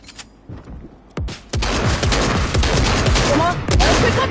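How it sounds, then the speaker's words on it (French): Rapid bursts of gunfire in the Goldwars video game, a dense rattle of shots and booms that starts after a few scattered pops and keeps going, with voices talking underneath. "Me tire dessus."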